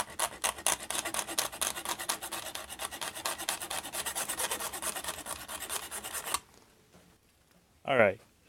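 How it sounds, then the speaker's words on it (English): A steady, rapid back-and-forth rasp of a saw cutting through the hard plastic corners of a puzzle cube, close up, stopping abruptly, followed by a short thump. "I'm going to start sawing and see if I can get through these corners"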